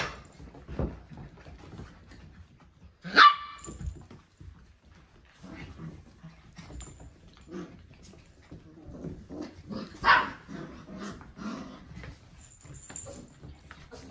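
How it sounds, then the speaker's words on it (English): Young dogs play nearby with scattered yips, whimpers and scuffling, a couple of sharper barks standing out over a low rustling background. "We'll just watch the puppies play for a few minutes."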